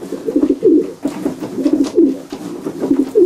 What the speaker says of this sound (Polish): To jest następny gołąbek, który u nas w hodowli zawitał